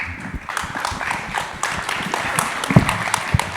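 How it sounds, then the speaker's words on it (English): An audience applauds at the close of a conference panel on stablecoins and emerging markets: steady, dense clapping from a crowd that continues for several seconds, with louder claps standing out near the end. "Let's give him another round of applause, everybody."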